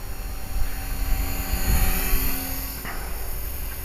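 An HK 450 RC helicopter flies a loop in a cramped indoor space, its rotor whine swelling and fading as it passes close by, loud and continuous, with no talking.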